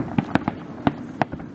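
New Year fireworks exploding near the Burj Al Arab in Dubai, a rapid irregular series of sharp pops and bangs at mid-distance over a low crowd murmur.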